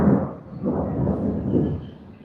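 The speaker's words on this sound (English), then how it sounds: "You hear that? That's thunder." Low thunder from a storm rolls in deep, continuous rumbles, swelling and easing in a few waves near a homestead in Guanajuato, Mexico.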